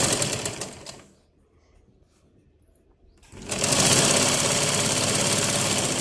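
A sewing machine stitches a blouse seam with a loud, steady whirring hum that stops for about two seconds, then starts up again and keeps running.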